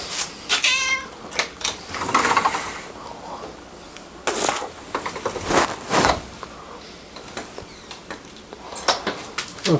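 A house cat meows a few times up close in a home kitchen, mixed with clattering of dishes, a drawer or door, and other household knocks.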